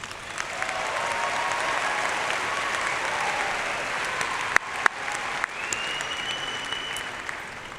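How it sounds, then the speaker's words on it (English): A crowd at a high school graduation ceremony applauds graduating seniors with sustained, dense clapping in a large venue, with a few louder claps and whistles standing out. "Again, a round of applause for all of these seniors."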